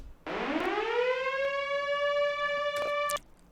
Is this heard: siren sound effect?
yes